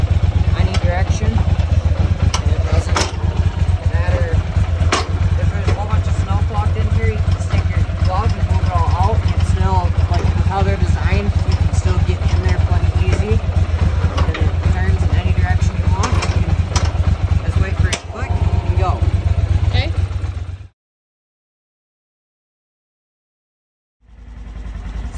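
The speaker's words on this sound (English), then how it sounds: "So, turn the four-wheeler on." Four-wheeler ATV engine running at a steady, loud idle close by, then cutting out abruptly to silence before a faint restart of sound at the end.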